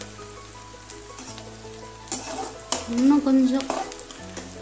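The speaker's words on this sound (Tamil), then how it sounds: "ஆல்மோஸ்ட் வெங்காயம் கொஞ்சம் வதங்கிடுச்சு." Onions softening as they sauté in a pan for a mochai kulambu, with a steady frying sizzle and scraping stirs that swell louder midway, under a brief voice.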